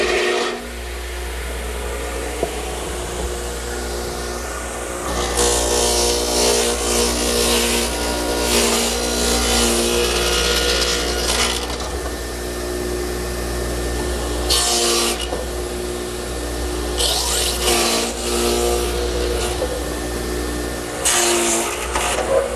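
A radial arm saw rasps through wood at an angle in a workshop, its blade noise swelling in bursts over a steady motor hum, loud and close.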